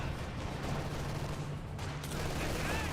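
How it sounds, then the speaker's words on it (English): Mortar shells land in a Company of Heroes 2 battle as a dense, rumbling stream of explosions and distant gunfire, steady and loud throughout with a brief dip midway. "Mortars, a lot of mortars hitting right there."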